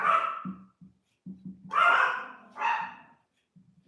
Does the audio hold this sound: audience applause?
no